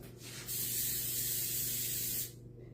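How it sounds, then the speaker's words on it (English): Cooking spray hisses from an aerosol can onto a baking pan for crescent rolls, one steady burst of about two seconds, close and loud, with no talking. "it's very important that you spray down your pan so your crescent rolls don't stick"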